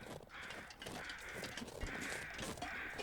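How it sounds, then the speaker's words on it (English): Crows caw in a snowy mountain landscape in The Long Dark, circling near a dead foreman's body; repeated harsh calls drift through soft wind, fairly faint and distant. "And the crows circling it."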